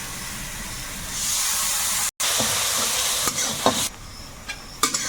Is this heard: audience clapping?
no